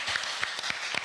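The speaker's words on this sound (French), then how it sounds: "Non, applaudissez les gars." A small audience claps in a brief, evenly spaced rhythm of a few sharp hand claps, moderately loud and close.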